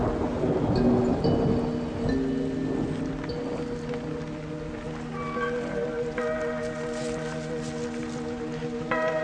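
Rain falling with distant rumbling thunder in a garden setting, a steady wash of rain with low rolling rumbles, mixed with tonal bird or ambient sounds, no speech.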